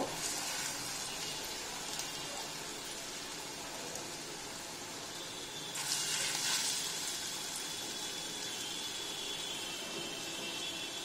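Banana flower kofta frying in a wok of hot oil gives a steady, close hiss of bubbling oil throughout, with a slightly louder burst of sizzle in the middle.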